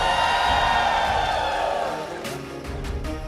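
Crowd cheering at an esports playoff event, the MPL Malaysia Season 14 playoffs, a dense roar of many voices that swells loud and fades, with a few sharp claps or whoops near the end.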